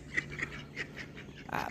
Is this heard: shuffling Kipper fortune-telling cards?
no